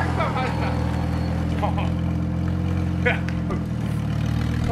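A diesel engine runs at a steady, rough idle just after a cold start, continuous and fairly close, with people talking over it.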